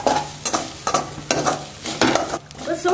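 Ingredients dry-roasting in a hot pan for an Aadi Friday rice dish, with repeated rhythmic scraping strokes of a spatula over a light sizzle, close and fairly loud, no talking.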